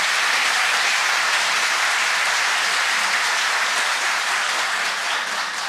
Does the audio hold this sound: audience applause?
yes